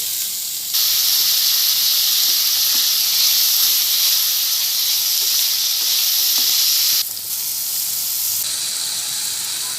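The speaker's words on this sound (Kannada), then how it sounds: "ಒಗ್ಗರಣೆಗೆ ಸ್ವಲ್ಪ ಎಣ್ಣೆ ಹಾಕ್ಕೊಳ್ತಾ ಇದ್ದೀನಿ ಎಣ್ಣೆ ಕಾದಿದೆ ಈರುಳ್ಳಿ" Onion frying in hot oil for a tempering, for a ridge gourd gojju, makes a loud, steady sizzling hiss close by that holds for several seconds and briefly dips before carrying on, with no talking.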